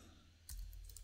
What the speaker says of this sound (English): In the URL section, we would type